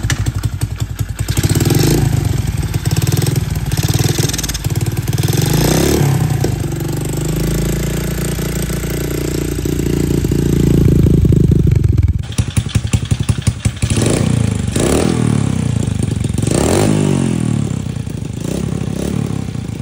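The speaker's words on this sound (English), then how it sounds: "This motor runs so much better than my last one." Pit bike motorcycle engine starting and running, a close, loud, rattly idle that swells and revs before dropping and picking up again in choppy bursts.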